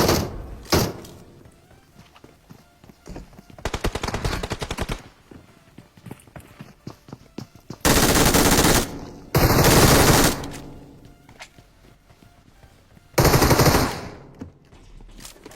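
Gunfire from a battle royale video game, with sparse single tap shots and occasional distant bursts, then several loud sustained automatic volleys lasting about a second each, separated by quieter stretches of in-game ambience.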